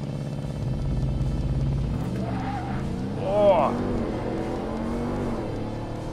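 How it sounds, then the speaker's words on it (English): A 2022 RAM 1500 TRX pickup with a supercharged engine roars through a launch-control start, its low rumble climbing with a rising supercharger whine, heard close and loud beneath a brief exclamation. "listen to that supercharger."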